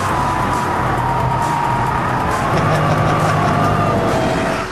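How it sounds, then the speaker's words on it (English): A Shelby GT500 engine drones loud and steady while the car slides through a corner in oversteer, its pitch holding through the slide with no voices over it. "Now we've got some oversteer."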